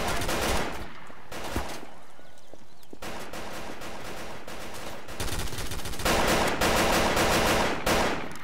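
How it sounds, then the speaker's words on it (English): Gunfire in a Garry's Mod police roleplay shootout near a hospital: loud rapid bursts of automatic fire alternating with short gaps, dense and close, with brief quieter pauses between volleys. "Shots fired hospital!"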